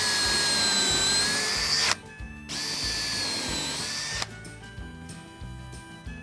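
A power drill drives 2.5-inch screws into a wooden miter sled with close, loud whirring runs. Brief pauses break the runs, and the pitch shifts as each screw seats.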